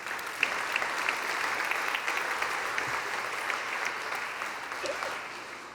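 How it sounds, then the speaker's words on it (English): A conference crowd applauds startup companies after a pitch competition, dense sustained clapping at steady volume throughout, filling the hall without a break. "another round of applause for all of our companies"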